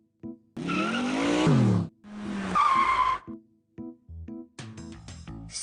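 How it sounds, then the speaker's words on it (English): A fancy sports car in the game Arthur's Puppet Theatre skids and speeds away, two long squealing tire screeches with a rising engine whine, followed by short choppy bursts of game sound effects. "She jumped in the fancy sports car and sped off to the royal ball."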